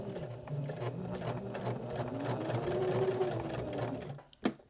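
A sewing machine top stitching a pocket hug, a close, steady whirring stitch run that stops near the end with a sharp click.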